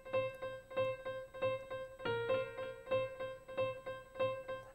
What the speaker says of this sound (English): But with some delay, it sounds like this